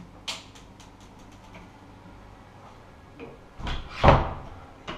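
The doors of a built-in two-door wardrobe in an apartment bedroom are opened, with a light knock early on and then a louder wooden clunk and rattle near the end.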